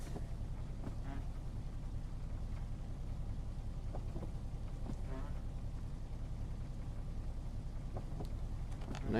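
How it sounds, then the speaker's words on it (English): Steady rain on a quiet morning, heard from indoors as a constant broadband hiss with faint scattered ticks and drips throughout, with no talking. "Nice rainy morning."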